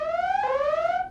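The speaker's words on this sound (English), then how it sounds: "Alarm." An electronic alarm sound effect rings out loud and close, a bright two-tone wail that steps down in pitch midway and holds steady for about a second.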